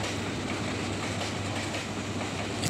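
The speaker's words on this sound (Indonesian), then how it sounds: "Kereta lagi noh. Kereta aslinya tuh." A train in a video game rolls past, a loud, steady rumble of wheels on rails with faint clickety-clack, continuous and close, with no talking.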